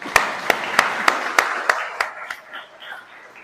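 Applause for the builders at a new school wing's grand opening: eight sharp claps ring out at a steady beat, then loosen into a scattered, softer patter that trails away.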